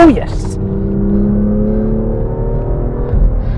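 A BMW M2 with a 7-speed dual-clutch gearbox accelerates on a race track, its engine a loud, steady drone with a quick drop in pitch at the start suggesting a gear change, heard from inside the car.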